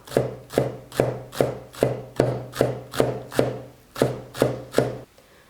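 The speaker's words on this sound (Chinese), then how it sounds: "几颗小葱，切成小葱花。" A kitchen knife chops a few scallions into small rings on a cutting board, twelve crisp, evenly spaced thuds close by, then stops.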